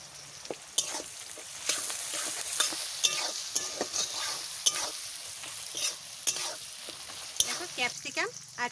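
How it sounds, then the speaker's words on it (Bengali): Onion and capsicum fry together in a pan for egg biryani, a steady crackling sizzle broken by repeated scraping stirs of a spatula, close and fairly loud throughout. "পেঁয়াজ আর ক্যাপসিকাম একসাথে দিয়ে দিলাম"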